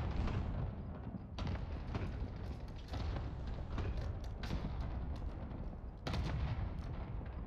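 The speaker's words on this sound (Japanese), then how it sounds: "左からあっちから撃たれてますね。" Sustained gunfire in Call of Duty: Warzone, dense overlapping shots and rumbling impacts throughout at moderate loudness, with sharper bursts breaking through.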